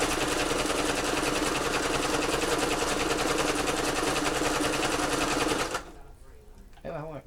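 A sewing machine stitches fabric, running straight over a pin, in a fast, loud, continuous mechanical chatter for nearly six seconds before stopping, after which a person speaks.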